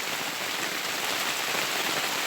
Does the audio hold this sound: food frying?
no